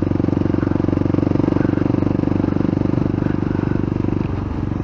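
An old diesel vehicle engine runs on a London street, a loud, rough, steady rattling chug that continues throughout.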